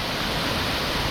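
A hidden waterfall near Pokhara, Lekhnath: a steady, broadband rush of falling water, close and even, with no voices or other sounds over it.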